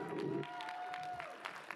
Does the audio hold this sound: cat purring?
no